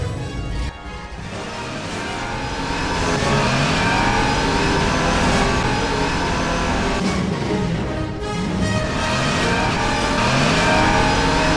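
A time-machine car drives off with a continuous mid-pitched engine roar that revs up and holds loud and close throughout, alone without voices.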